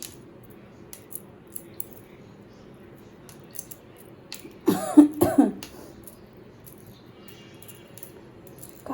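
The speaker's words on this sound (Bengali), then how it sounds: "হঠাৎ করে এইটা একটু কাশি আসে" A person coughs a few times in a short burst near the middle, close and fairly loud against a quiet room with faint small clicks and handling sounds around it.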